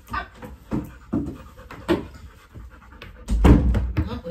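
A dog just back from a walk pants rapidly and heavily close to the microphone in uneven bursts, with a louder thump or shuffle near the end.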